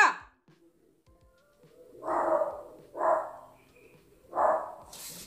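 Dogs barking in three separate loud bursts spaced about a second apart, fairly close, with quiet pauses between them.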